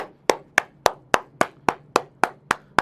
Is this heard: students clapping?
yes